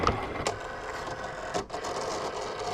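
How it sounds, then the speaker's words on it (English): A Cricut cutting machine taking in a cutting mat slid into its guide grooves, giving a faint mechanical whir with a few light clicks and one brief thump in a quiet room. "Now we'll get this over to our Cricut machine. Slide it into these grooves here."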